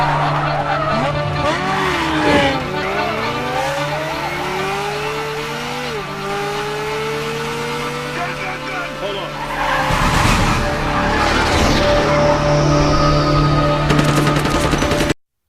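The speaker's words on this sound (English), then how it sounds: "This is the Ferrari 575 Maranello." A Ferrari 575 Maranello with its V12 engine revs and roars close by as the tires squeal and skid through sweeping slides. The engine pitch rises and falls before a loud acceleration near the end.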